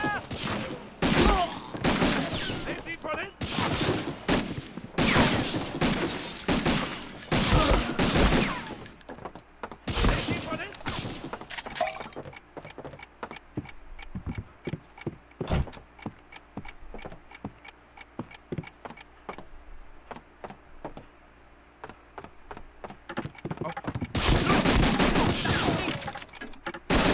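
Rapid machine-gun and rifle fire from the World War II shooter Medal of Honor: Frontline rattles in dense, loud bursts, thinning to scattered single shots mid-way before another heavy volley near the end.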